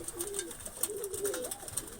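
Pigeons coo softly in a loft, repeated low rolling calls over a faint background hiss.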